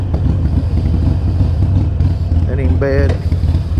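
Harley-Davidson Iron 883 motorcycle running on a ride, a steady low engine drone under a voice speaking over it.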